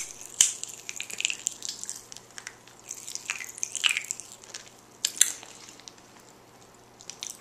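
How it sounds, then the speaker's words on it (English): Pop Rocks candy crackling and popping inside a child's mouth, a scattered run of small crisp snaps and fizzy crackles, close and fairly quiet, with no talking. "You like, do you like the Pop Rocks?"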